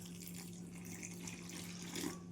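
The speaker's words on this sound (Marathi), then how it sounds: "आता आपल्याला थोडं पाणी टाकून घ्यायचं" Water is poured into a vegetable breakfast batter in a home kitchen, a soft steady trickle heard faintly with no talk.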